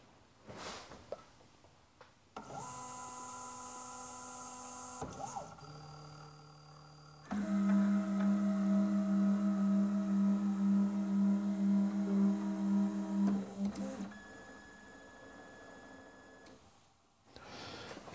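A home-built DIY machine homes all of its axes, its stepper motors whining in steady tones through several separate moves with short pauses between them, close and moderately loud with no talking.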